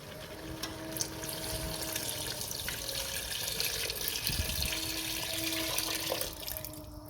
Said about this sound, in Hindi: और अब मैं इसमें पानी डाल दूँगी।